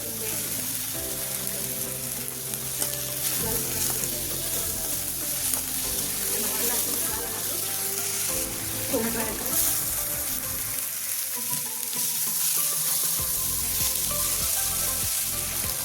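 Chopped onion fries in hot oil in a pan for paneer bhurji after cumin and garlic go in, giving a steady, close sizzle with stirring scrapes throughout.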